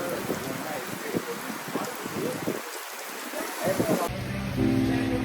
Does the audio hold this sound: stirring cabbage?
no